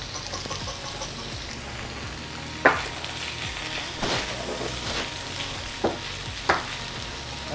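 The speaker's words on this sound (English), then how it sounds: "Seems like our oil is hot now, so now I can brown up these sausages" Sausages browning in a pan of hot oil give a steady close sizzle and crackle. A few sharp louder pops and scrapes break through at intervals.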